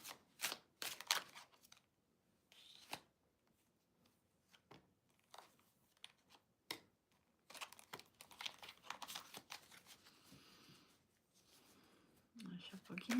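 Playing cards are shuffled in soft, close, irregular bursts of riffling and flicking, separated by pauses, with quiet speech now and then between them.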